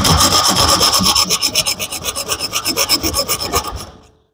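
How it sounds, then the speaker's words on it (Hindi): A hand-held hacksaw blade used without a frame cuts by hand, giving loud, rhythmic rasping strokes back and forth for about four seconds before stopping abruptly. "यानी कि ये आरी का ब्लेड तो है"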